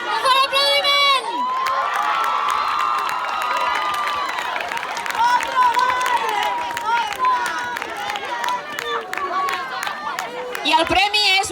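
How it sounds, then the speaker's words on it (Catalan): A carnival crowd of children and adults cheers, shouts and claps in a loud, dense, continuous roar, with high excited voices rising and falling throughout and a final burst near the end. "un fort aplaudiment!"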